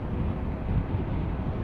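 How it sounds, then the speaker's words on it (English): Harley-Davidson Pan America 1250 Special engine held at about 4,000 RPM in fifth gear near 60 mph, a steady low droning hum mixed with wind rush, continuous and moderately loud with no talk. "Engine is commendably smooth"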